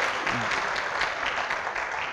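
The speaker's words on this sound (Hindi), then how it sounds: "आप इनके लिए भी ताली बजा सकते हैं" An audience at a Junoon Talks session at GCU applauds. Dense, continuous clapping fills the whole stretch at an even level from a large crowd, with no talk over it.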